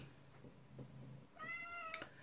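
A kitten meows a few times nearby, short high cries with one longer, rising call, in an otherwise quiet room.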